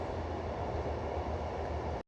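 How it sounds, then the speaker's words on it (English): A train rumbling past with a steady low roar and a wide rushing hiss, loud and continuous, cutting off abruptly at the end. "Right on cue, we have a train."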